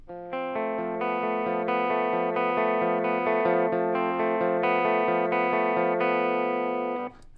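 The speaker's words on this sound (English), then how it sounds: "Again, my clean sound." A clean electric guitar, with no effect pedals engaged, plays a steady run of sustained, ringing notes for several seconds and then stops abruptly. There is no talking.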